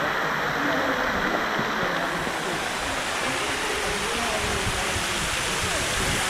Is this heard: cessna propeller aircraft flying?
no